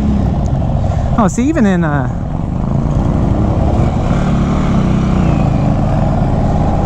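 A 2022 Indian Chief Dark Horse motorcycle engine rumbles steadily while riding in sport mode, with a short burst of revving near the start, loud and close under a rider talking.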